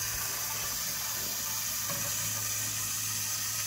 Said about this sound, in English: We're going to fill it to 3 gallons.